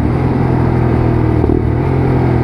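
A Lexmoto LXR motorcycle engine blipping the throttle to match revs on a downshift, a loud, close, steady engine drone with a brief rise in pitch midway.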